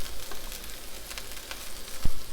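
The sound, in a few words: veggie burger patty sizzling in a pan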